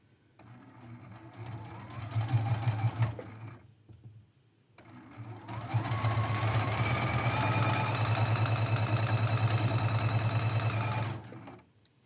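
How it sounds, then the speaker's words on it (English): Sewing machine stitching a quilt border seam, a close steady whirring hum in two runs with a pause between, the second longer and stronger, with a brief spoken pause in between. "We're just sewing right along that line."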